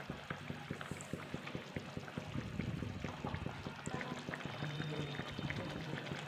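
Pieces of rohu fish dropped into boiling water with tomatoes for a fish curry, a soft continuous pouring and bubbling liquid sound at low level with faint clatter.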